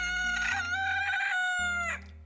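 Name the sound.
rooster crowing in a chicken farming video game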